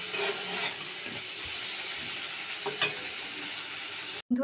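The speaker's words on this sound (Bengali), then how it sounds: "পটল আলুটাকে ভালো করে লাল করে ভাজবো।" Pointed gourd and potato pieces fry in oil in a pan for a potol chingri dish, giving a loud, even, continuous sizzle with a few faint stirring knocks and no voices.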